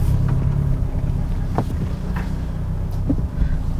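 A Mercedes 190E W201 rolls into a shop, its engine giving a steady low rumble close by, with wind buffeting the microphone and a few brief knocks along the way.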